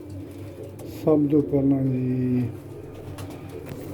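Pigeons being let out of their coop give a brief burst of cooing, a few low rolling calls close by, with people talking around them.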